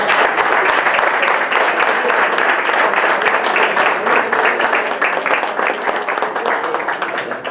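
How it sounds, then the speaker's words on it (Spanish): Audience applauding journalists at a press conference on a police unionization bill, with dense, loud, steady clapping throughout that fades slightly toward the end. "vamos a aplaudir a los periodistas"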